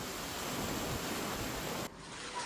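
A heavy unseasonal downpour over villages in Kutch, Gujarat, makes a dense, steady hiss that cuts off abruptly partway through before the noise resumes at a lower level.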